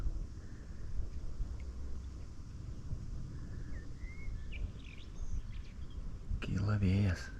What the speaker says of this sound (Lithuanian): Kyla vėjukas po biškutį.